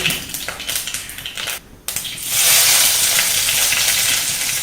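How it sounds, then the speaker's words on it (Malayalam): Loud, steady sizzling and crackling of curry leaves dropped into hot oil after mustard seeds have popped, a brief hush, then a fuller continuous frying hiss. "കടുക് പൊട്ടി കഴിഞ്ഞിട്ട് വേപ്പല ഇടുക"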